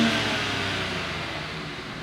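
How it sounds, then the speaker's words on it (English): A car engine revs hard and steadily close by, a sustained broadband roar that eases slightly toward the end with no voices over it. "Rev it"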